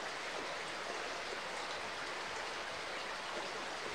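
Flowing water in the video game Hype the Time Quest, a steady, even rush of water that holds at moderate loudness throughout with no other sounds.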